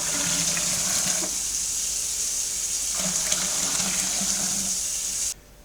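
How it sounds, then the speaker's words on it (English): Cold tap water gushes steadily into a plastic beer fermenter being filled to about 18 litres, a loud continuous rushing with slight shifts in pitch, then cutting off abruptly near the end. "I'm going to top this up with cold water, just straight from the tap, to about the 18 litre mark."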